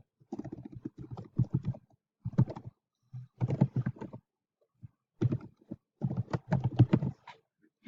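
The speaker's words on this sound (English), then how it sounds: "So I'll just type that in a second time." Someone types on a computer keyboard in close, quick bursts of clattering keystrokes separated by short pauses, with no one talking.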